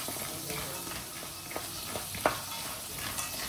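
Peanuts and garlic fry in a pan for spicy puffed rice (masala murmura), giving a low, steady sizzle close by with a few light stirring scrapes.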